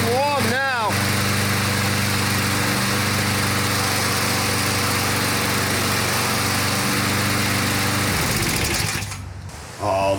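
A Craftsman 22-inch self-propelled lawn mower's engine runs steadily and strongly up close for several seconds, with a brief voice at the start, before cutting off near the end.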